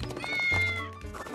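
A cat meows once, a drawn-out close meow with a slight rise and fall, loud and clear.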